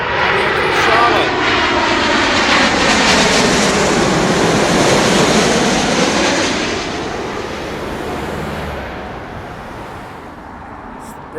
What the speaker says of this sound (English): American Airlines 777-200 coming in from Charlotte.